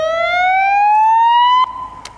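A loud, close police siren sweeps upward in a single rising wail, then cuts off sharply, followed by a brief faint chirp; no one speaks.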